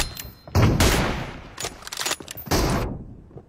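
Sniper rifle fire from an AWM and M24 in the mobile game BGMI: a few loud, sharp shots with echoing tails, spaced about a second apart, close and dominant.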